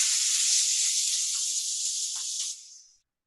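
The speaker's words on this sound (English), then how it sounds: "You're going to hear a really nice sizzle," A steady, bright hiss of vegetables sizzling in hot oil in a pan, loud and constant for about two and a half seconds before fading out quickly.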